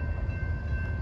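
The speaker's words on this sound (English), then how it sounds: "Train coming up." A train rolls past a railroad crossing in Rosenberg, Texas, giving a steady, close rumble with a faint sustained tone above it. No one speaks.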